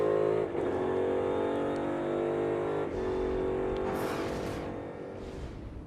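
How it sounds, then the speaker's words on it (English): NASCAR Cup Series race car at Texas Motor Speedway during the Würth 400, engine note dropping through downshifts, loud and close, steady engine roar for several seconds with no talk. "Listen to him downshift."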